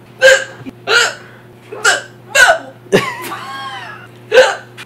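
A woman's hiccups sound in a series of six sharp, close, loud bursts spaced roughly a second apart, one trailing into a brief squeaky laugh, over a steady low hum.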